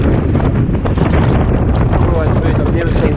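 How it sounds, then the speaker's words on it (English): Strong wind buffets the microphone with a loud, constant low roar and rumble, and a voice can be faintly heard beneath it. "It's very windy out here"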